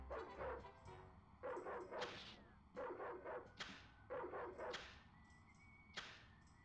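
A dog barks repeatedly in the Ed, Edd n Eddy video game The Mis-Edventures, with clustered yipping bursts recurring every second or so over a steady game soundtrack, loud and close.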